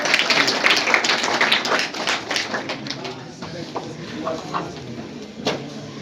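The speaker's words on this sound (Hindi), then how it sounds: "तो जोरदार तालियों के साथ अनिल भैया का स्वागत करेंगे।" Applause from an audience welcoming a speaker onto the stage at a Talent Search Quiz prize ceremony: a dense burst of clapping that thins out over several seconds into scattered claps, with voices murmuring underneath.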